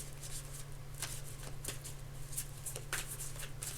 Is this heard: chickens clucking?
no